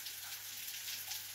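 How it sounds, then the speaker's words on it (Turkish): Rain falling steadily in a village in Kastamonu, Turkey: a soft, even hiss of drops on surfaces, faint and continuous, with no voices. "Ne güzel yağıyor."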